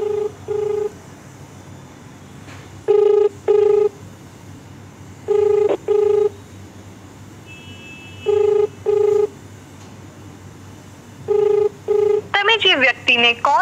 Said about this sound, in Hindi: अब गोपाल भाई से हम लोग फोन कर रहे हैं।